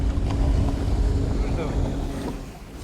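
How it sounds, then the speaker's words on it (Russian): Steady roar of strong wind buffeting the microphone on a reservoir, with the low drone of a boat motor passing nearby underneath. "Сильный ветер, проплыла лодка."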